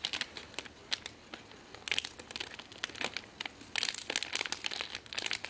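Scissors snipping and crinkling through a foil My Little Pony Crystal Shine blind bag, with irregular bursts of sharp rustling crackle close by.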